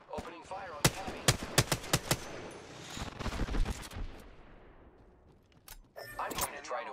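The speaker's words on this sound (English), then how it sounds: "Opening fire on the enemy." Rapid gunfire bursts from Apex Legends, a run of sharp loud shots through the first few seconds, then a dense rumbling stretch of continuous firing and another cluster of shots near the end, with a voice speaking over the game.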